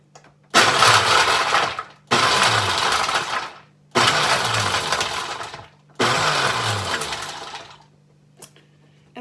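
A food processor chopping walnuts and garlic cloves in four loud, rough bursts of a few seconds each, with short quiet gaps between pulses.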